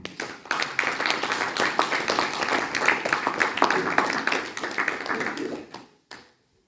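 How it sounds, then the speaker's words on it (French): A church congregation breaks into loud, sustained applause, a dense wash of many hands clapping together that stops abruptly, followed by one brief knock. "Applaudissons le Seigneur pour cette parole"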